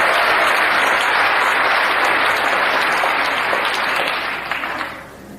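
An audience claps at a Korean stand-up comedy show, with full, loud applause throughout that thins out and fades near the end.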